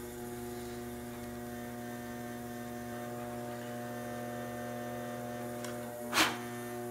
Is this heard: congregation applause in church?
no